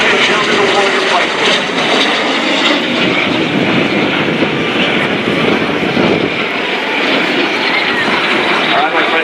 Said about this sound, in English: we got two aircraft. Those are L-39 jet built L-39 training and attack aircraft